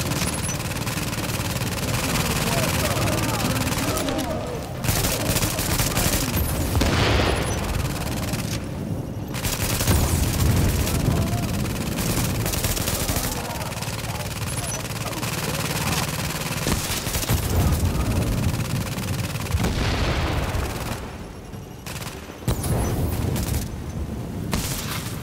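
Near-continuous video game gunfire, with automatic bursts, rattling volleys and booming impacts overlapping for a long stretch, loud and dense with only a few brief gaps.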